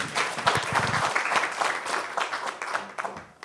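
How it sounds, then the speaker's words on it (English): An audience applauds panelists at the close of a panel session on digital skills and education at an academic gathering, a dense, steady burst of many hands clapping that carries on for several seconds and tapers slightly toward the end. "can we give a final round of applause for our panelists?"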